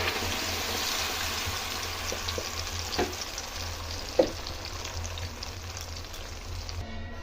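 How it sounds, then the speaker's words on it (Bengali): Ground spice paste frying in hot mustard oil for a vegetarian potol malai curry, a continuous bubbling sizzle with occasional spatters and a sharp pop near the end. "তেল থেকে সুন্দর গন্ধ বেরোলে এই যে বাটা মশলাটা দিয়ে দেবো।"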